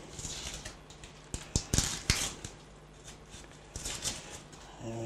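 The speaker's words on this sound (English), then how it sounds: "we are going to peel the onion and cut it" A knife cuts through a peeled onion on a board, giving a series of sharp, irregular chopping taps of varying loudness, close by, with quiet pauses between strokes.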